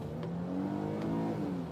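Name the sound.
storm chaser's car engine revving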